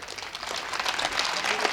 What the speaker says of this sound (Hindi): पर एक बार तालियों का जोश और देखना चाहता हूं